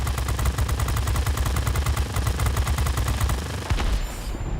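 Rapid bursts of gunfire from the Republic F-84G jet in World of Warplanes rattle on continuously. The firing is loud and dense over engine roar, then cuts off with a final boom near the end.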